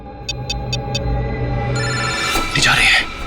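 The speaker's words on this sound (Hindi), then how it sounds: "मैं फोन करता हूँ फिर से।" A telephone rings: four short, evenly spaced high electronic beeps sound over a steady hum, followed by a swell of louder, brighter noise.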